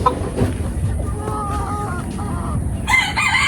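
Bantam chickens crow and cluck close by, several birds overlapping in a busy coop, with a burst of high-pitched calls near the end.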